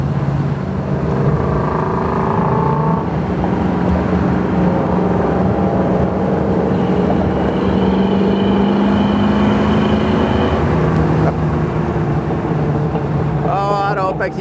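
A 1965 Ford Mustang convertible with a 289 V8 drives along, its engine droning loud and steady as it shifts through the gears, with wind rush and someone talking over it.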